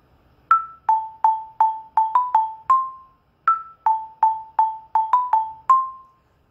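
Orff xylophone struck with mallets plays a short Halloween melody twice, each pass a run of about seven bright, evenly spaced notes with a brief pause between the two, close and clear with no talking.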